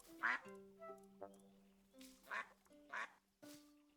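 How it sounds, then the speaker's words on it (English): Ducks quack in the cozy building game Tiny Glade, four short bursts of quacking spaced out over a soft background of tonal game music, fairly close and clear. "Ducks."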